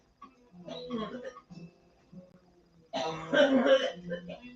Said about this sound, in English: You know why she's coughing, don't you?